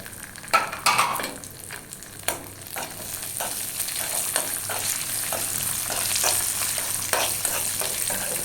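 Cashews and raisins fry in ghee for semiya payasam, a steady close sizzle broken by several sharp scrapes and clinks of a spoon stirring the pan, with no talking.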